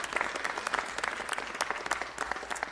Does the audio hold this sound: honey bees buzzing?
no